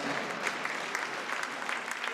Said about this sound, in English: let's hear it for one more round of applause